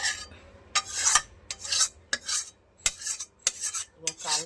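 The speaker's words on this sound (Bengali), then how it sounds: "মা কড়াই থেকে বাটিতে ঢেলে নিল আস্তে আস্তে।" Egg curry is scraped out of a wok into a bowl with a metal spoon, giving a series of close, gritty rasping scrapes in short irregular bursts with brief pauses between them and no talk.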